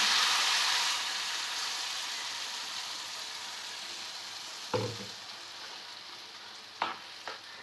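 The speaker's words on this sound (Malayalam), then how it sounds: "ഇതുപോലെ നന്നായിട്ടൊന്ന് ഇളക്കി കൊടുക്കുക അടി പിടിക്കാതെ ഇളക്കണം" Papaya paste for halwa is stirred in a hot pan, giving a steady close frying hiss that slowly fades, with a few sharp scraping knocks of the spoon near the end.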